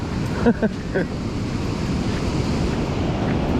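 Ocean waves on a beach near small rock formations, a continuous roaring surf wash mixed with heavy wind buffeting the microphone, with a few brief distant voices early on.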